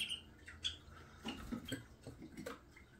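Canaries, including a Red Factor, chirp in a home aviary: short, faint squawks and tweets scattered across a few seconds in a quiet room.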